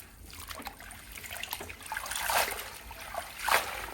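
Tap water trickles and splashes while fresh vegetables for a Lao vegetable dip are rinsed, an uneven running flow with louder surges of splashing.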